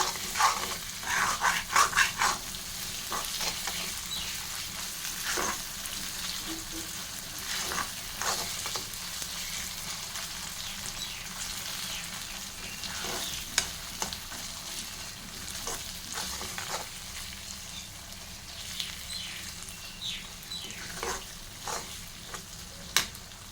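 Steady sizzling of goat meat frying with spices in a pan, with occasional stirring scrapes, and a dog barking faintly in the background.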